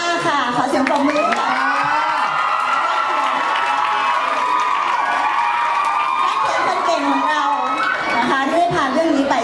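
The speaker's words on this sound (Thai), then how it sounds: "ขอเสียงปรบมือ" A lively crowd at a series launch event cheers and shrieks over scattered clapping, a sustained wall of excited voices that stays loud throughout.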